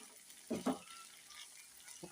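Okra frying in a pan is stirred with two quick scraping clicks, followed by a faint, steady sizzle, close up and quiet with no voices.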